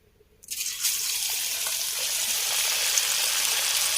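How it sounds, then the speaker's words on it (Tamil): Masala-coated fish dropped into hot oil for a Chettinad fish fry, the quiet pan suddenly bursting into a loud, steady, close sizzle that holds for several seconds. "இப்போ மீன் பொரிக்கணும்"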